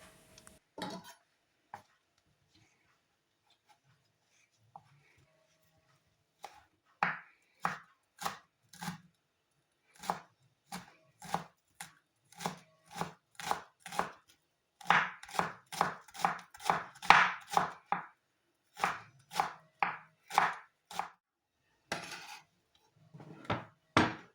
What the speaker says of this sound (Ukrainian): Дрібно нарізаю зелену цибулю.